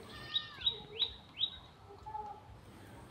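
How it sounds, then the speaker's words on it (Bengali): Wild birds call near a riverside resort on the Murti river at Gorumara: four sharp, high chirps in quick succession, then softer calls over a quiet outdoor background. "সারাক্ষণ বিভিন্ন নাম না জানা পাখির ডাক শোনা যাচ্ছিল।"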